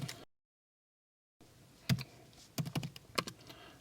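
Code being typed on a computer keyboard: after a brief silence come clusters of crisp key clicks, some quick and bunched, some single taps, close and fairly quiet, with no talking.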